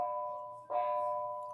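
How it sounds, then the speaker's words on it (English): A single soft electronic bell tone sustains indoors in a quiet classroom setting, faint and alone, with a brief shuffle partway through. "Sorry for the bell."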